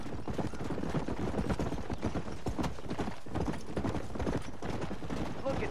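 Horses clip-clop in Red Dead Redemption, a run of steady hoofbeats on the ground heard close, with a voice talking over them.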